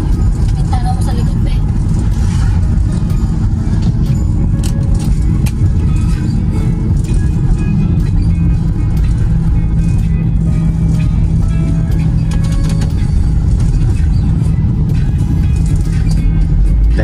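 An automatic car drives along a road toward Manila, its engine and tyre rumble a steady low drone throughout while people talk over it.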